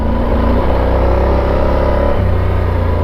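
Yamaha Super Tenere adventure motorcycle ridden through forest roads, its engine droning loud and steady with wind roar, the pitch shifting slightly as throttle changes, heard from onboard.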